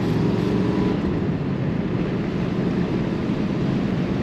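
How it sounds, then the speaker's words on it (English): The heater blower motor runs inside a 1968 Chevrolet Corvette convertible, a loud, steady broadband whoosh of rushing air with a low motor hum beneath, continuous and close, with no talking. "The blower motor works on this car."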